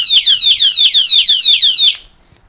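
The anti-theft alarm of a Sportster disc brake lock sounds as a rapid series of loud, piercing electronic chirps sweeping downward for about two seconds, then stops abruptly.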